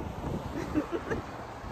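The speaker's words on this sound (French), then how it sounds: "T'entends pas, il y a trop de vent." Strong wind gusts buffet the microphone outdoors in the rain, a rumbling low roar that swells and dips throughout.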